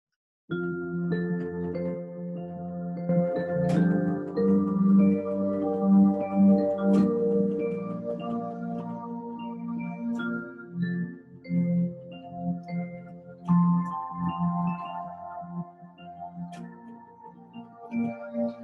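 Layered synthesizer tones play a slow, sustained chord progression, with shimmering upper notes and occasional bright accents over a warm low pad.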